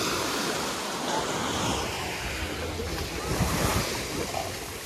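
Sea waves wash onto a beach in Kemer, Turkey, a steady broad rushing surf with some wind buffeting the microphone, continuous and fairly close, with no talking.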